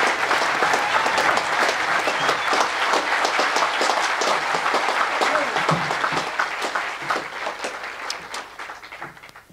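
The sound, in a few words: audience applause welcoming speaker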